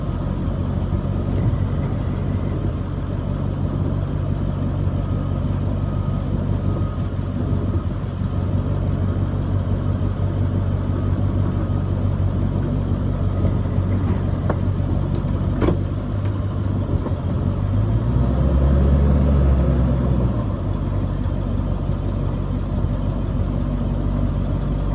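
A Stratolander E450 4x4 Powerstroke truck's engine running through a multi-point turn, a steady low diesel rumble near at hand, with a brief deeper swell toward the end and no talking.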